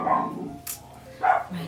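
Short barks from a pet dog in a home crochet studio, two brief bursts separated by a quieter gap, with a person speaking nearby.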